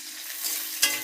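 Chopped onion frying in oil makes a continuous bright sizzle up close, with a brief utensil scrape near the end.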